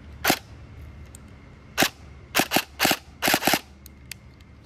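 Airsoft gun running on a 7.4V battery firing a few sharp single shots and quick doubles, moderately loud, with quiet gaps between them.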